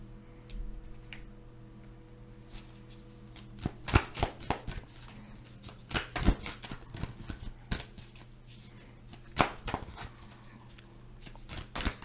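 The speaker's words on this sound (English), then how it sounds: "I'm going to pull some more cards here." Tarot cards being shuffled by hand, soft riffling and tapping in irregular clusters, quiet and close, with no talk over it.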